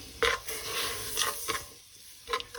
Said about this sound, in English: Now I'm going to melt the honey and the sugar on a low heat